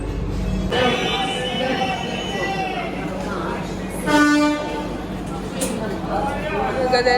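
A train stands at a railway station platform, a continuous low rumble and hum of the halted carriages with station bustle, a brief horn-like tone rising partway through, and a person talking over it throughout.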